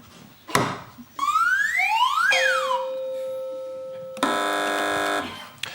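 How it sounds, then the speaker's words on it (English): Electronic game show buzzers on a British panel quiz sound off in turn: a short click, rising and swooping sirenlike tones, a sustained tone, then a loud harsh buzz lasting about a second. "Fingers on buzzers, teams."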